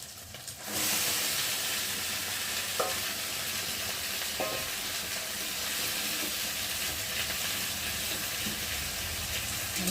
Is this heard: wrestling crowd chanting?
no